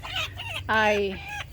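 A chicken gives a short, drawn-out cluck, close and fairly loud, with faint outdoor background noise.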